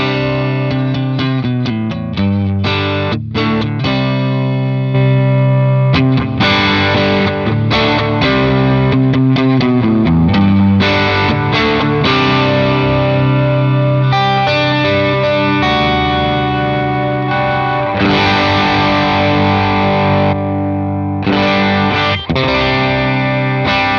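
Electric guitar played through a downloaded amp rig with heavy distortion, chugging riffs and sustained chords, loud and continuous for the whole stretch with no talking.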